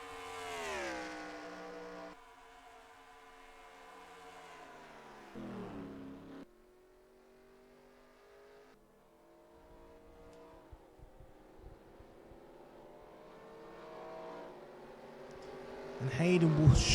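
Race car engines from the NASCAR Racing 2003 video game, on a Brazil track, drone and shift pitch steadily throughout with a loud burst near the end, under continuous commentary talk.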